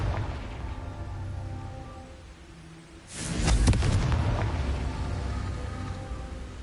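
A Confringo blasting spell in Hogwarts Legacy lands with a sudden loud burst partway through, then a rumbling low roar that lingers and fades slowly over a steady game background.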